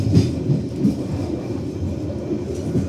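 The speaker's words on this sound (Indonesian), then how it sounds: "Dan kereta api Airlangga ini ke jalur sebelah kiri menuju ke Brebes, Tegal, Semarang, Tawang." The Airlangga economy passenger train runs along the track, a continuous close rumble with rhythmic clickety-clack of wheels over rail joints and no voices.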